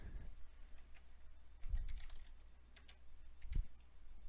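Typing on a computer keyboard, soft scattered key taps at close range over a faint steady hum, with a couple of heavier thuds between them.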